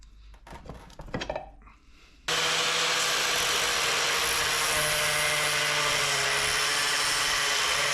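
An angle grinder cleaning a Toyota 4.7 transfer case housing starts up after a few brief metal clanks and then runs as a loud, steady, high whine that fills the rest of the clip with no talk.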